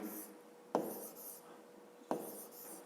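Digits written by hand on paper, soft close scratching strokes with two sharper pen taps about a second apart, quiet and without talk.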